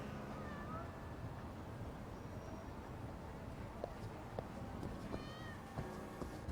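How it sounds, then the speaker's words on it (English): Cats meowing in the video game Lost Judgment, soft scattered mews and short calls rising over a steady background bed of game ambience and music, fairly faint and intermittent. "I'm just petting the pretty kitty cats"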